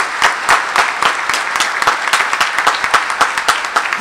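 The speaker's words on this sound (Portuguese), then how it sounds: "Pode aplaudir, pode aplaudir, pode aplaudir." A church audience applauds with loud, rhythmic clapping that continues steadily, close and full, with no other sounds standing out.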